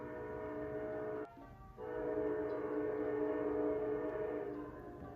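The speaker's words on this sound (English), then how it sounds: "excuse the train." A train passes nearby with a steady, loud rumble and roar that dips for a moment and then carries on, with no talking over it.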